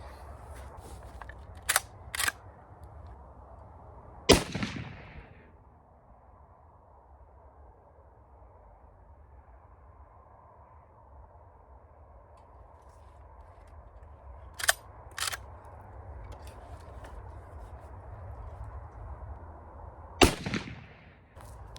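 Savage 99 rifle in .308 fired outdoors, several sharp loud reports spaced far apart, some in quick pairs, with quiet stretches of low background rumble between them and no talking.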